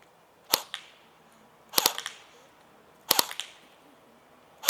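Sharp pops from airsoft guns shooting at targets in quick bursts of two or three, repeating every second or so, fairly close and with no talking.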